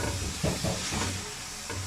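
Mixed vegetables of potato, peas and carrot tipped into frying masala in a pan, a steady close hissing sizzle with a few soft bumps of stirring, no voices.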